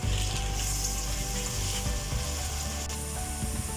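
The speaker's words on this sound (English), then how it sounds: "To this we're going to add in about half a teaspoon of Jeera seeds." Cumin (jeera) seeds hitting hot oil with slightly browned onions in a pan, a loud close bubbling sizzle that crackles steadily throughout with a brief sharp spike near the end, no voices.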